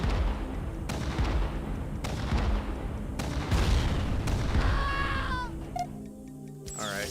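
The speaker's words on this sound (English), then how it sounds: "And of course they come in and airstrike it instantly." Airstrike explosions from the Command & Conquer Remastered strategy game, a string of broad booming blasts landing every second or so with rumbling debris, followed by a few high electronic game tones near the end.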